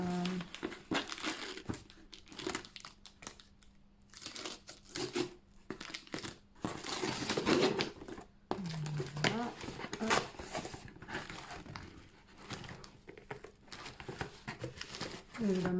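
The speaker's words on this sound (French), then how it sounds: "j'ai reçu la petite boîte et je vais vous montrer tout ça. Voilà, donc on va l'ouvrir ensemble." A cardboard tea subscription box is opened and unwrapped close by, with repeated crinkling of paper and wrapping, some tearing and tapping, and someone talking in French over much of it.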